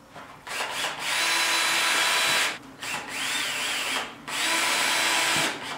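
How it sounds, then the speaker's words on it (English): Power drill driving screws into a wooden board while building a DIY chicken coop, three loud whirring bursts separated by short pauses, close up with no talk. "we'll start 2 screws into the other board."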